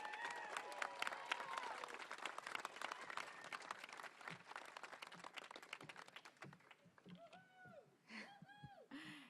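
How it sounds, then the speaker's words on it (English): Audience applause at a back-to-school political rally in Fairfax County, Virginia, a dense patter of clapping from a crowd that gradually thins out, with some cheering and voices mixed in toward the end. "Let's give an applause."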